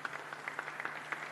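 Faint, scattered applause from a small crowd gathered outside the cathedral in Derry during John Hume's funeral. The claps come as a thin, distant patter.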